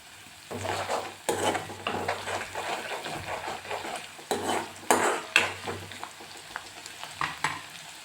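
Ground green chili and garlic paste sizzles in a pan while a spoon scrapes and stirs in repeated bursts, clattering against the metal, close and fairly loud.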